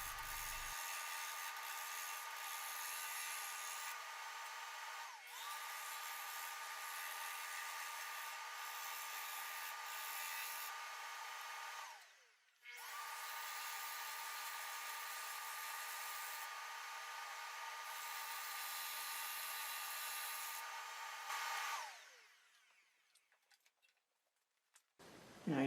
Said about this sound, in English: I'll take these to my scroll saw and we'll start cutting them out.